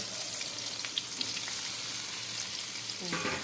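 Onions sizzle steadily in hot oil left from frying fish, a dense continuous hiss with occasional spatters and a brief stirring clatter near the end.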